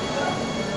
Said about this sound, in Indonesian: The next train bound for Equestrian Station will be arriving on platform 1.